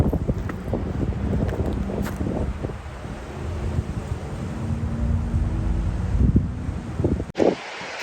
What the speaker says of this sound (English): as you can tell, it's a very windy day.